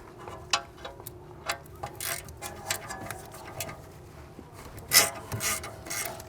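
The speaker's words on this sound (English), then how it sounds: "now I'm just gonna zap them out with the electric ratchet" Electric ratchet spinning out brake caliper bolts on a 2016-or-later Volvo XC90 during rear brake pad and rotor replacement; a series of short, sharp ratcheting clicks and bursts, close and moderately loud.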